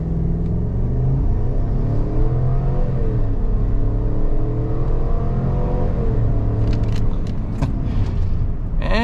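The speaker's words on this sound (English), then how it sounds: "we'll bring it to a stop quick, and we'll see how it performs on a 0 to 60 test" A 2025 Chevrolet Tahoe Premier with the 5.3-litre V8 pulls hard from a stop toward 60 mph, its engine note rising loud and steady through gear changes from inside the cabin, ending with a few light clicks.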